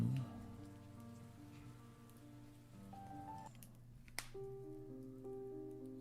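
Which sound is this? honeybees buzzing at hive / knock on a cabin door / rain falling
rain falling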